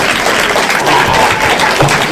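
Audience applause rises at the close of a fan film panel at the 2008 New York Comic Con in the Javits Center, a continuous wash of many hands clapping, loud and near, with a few faint voices underneath.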